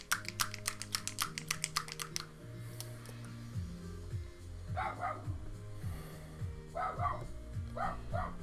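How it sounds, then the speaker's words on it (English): A dog barks at what seems to be a fox outside, a few short muffled barks in clusters later on, heard under background music and some tapping at a hobby painting table. "the dog still thinks she's barking at a fox or something"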